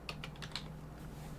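Several quick clicks from a computer keyboard, close and soft, over a low steady hum; the typing stops after about half a second and no one speaks.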